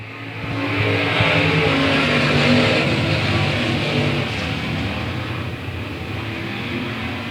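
Race cars at South Texas Speedway thunder past in a pack, a loud sustained engine roar swelling then holding steady as the field gets back to racing.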